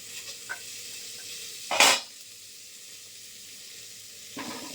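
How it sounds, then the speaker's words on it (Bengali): Potato pieces fry in a pan of oil for a fish curry tempered with cumin seed, giving a soft, steady sizzle with one brief louder hiss and a few faint clinks of utensils. "আলুটা দিয়ে দিচ্ছি, আলুটা একটু ভাজা হবে"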